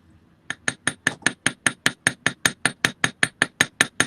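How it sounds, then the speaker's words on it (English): A frets hammer strikes jewelry wire to texture it, about eighteen sharp, evenly spaced metallic taps in a steady, close rhythm. "This is a frets hammer."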